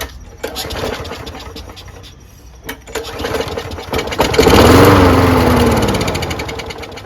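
A lawn mower engine with a dirty carburetor cranks over on starting fluid after winter storage. Loud mechanical rattling swells into a brief rising engine roar midway, then slowly fades.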